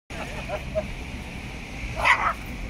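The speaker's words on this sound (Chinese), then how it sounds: "都有狗仔嘅" A small dog yips and barks a few times in a pet-sharing park in Kwun Tong, short bursts with one louder close bark near the end over steady outdoor background noise.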